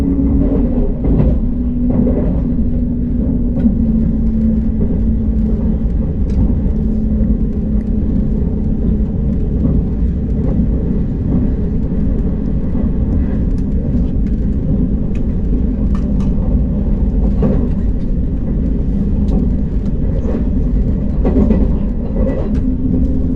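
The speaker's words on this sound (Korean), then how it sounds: "잠시 후 열차는 수원역을 앞두고 경부선 오산역을 통과합니다" A KTX high-speed train on the Gyeongbu line passes through Osan station, heard as a continuous heavy rumble with faint rhythmic clatter of the rails, steady and loud throughout.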